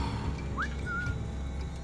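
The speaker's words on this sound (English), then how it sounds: "I'm gonna whistle someone over here" A short two-note whistle from a character in the video game Assassin's Creed Black Flag, a quick rising note followed by a held tone, over low game ambience.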